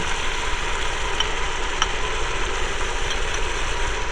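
Concentrated tomato paste fries and gets stirred in a pot on high heat, giving a steady, close, bright sizzle throughout with no voices.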